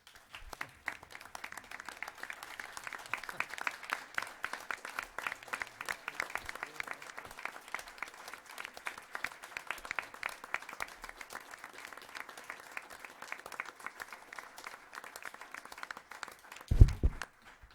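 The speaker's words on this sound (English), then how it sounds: "can we all have a round of applause" A room of attendees at a board of education meeting applauds steadily for about seventeen seconds, dense, even clapping at moderate volume that fades near the end with a brief thump.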